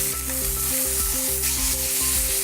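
Chicken pieces browning skin side down in hot oil, a loud continuous sizzle and crackle close by, with no talking.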